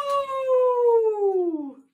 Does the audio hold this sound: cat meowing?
yes